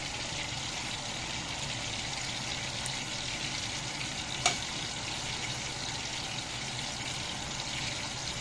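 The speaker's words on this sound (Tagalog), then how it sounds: "Habang nagpiprito ako" Food frying in oil in a home kitchen, likely a batch of bacon, giving a steady, close sizzle and crackle with a single sharp pop partway through and no talking.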